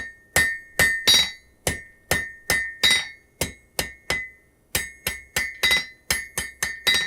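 Blacksmith hammering steel on an anvil to blunt the end of a piece, a steady series of about twenty sharp ringing metallic strikes, loud and close, each with a short bright ring.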